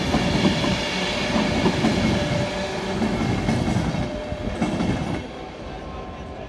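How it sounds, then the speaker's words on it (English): A London North Western train rolls into Crewe Station with a steady rumble, wheel noise and a faint squeal, then quiets slightly near the end as it slows. "We have another London North Western service here as well. This one coming into Crewe Station again."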